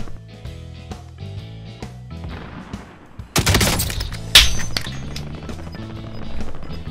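Gunfire in the PC video game Call of Duty: a sharp, loud burst of shots near the middle, followed by a second crack, over a busy background of game music and ambience.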